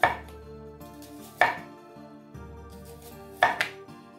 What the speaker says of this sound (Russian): Лук нарезаем кольцами.